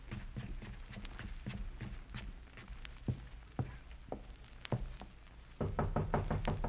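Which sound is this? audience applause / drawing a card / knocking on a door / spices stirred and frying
knocking on a door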